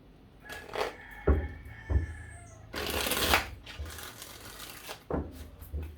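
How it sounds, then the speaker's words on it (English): A tarot deck being shuffled nearby, with a few soft slaps and one longer riffle, plus a faint cat-like meow at one point. "as I've been shuffling"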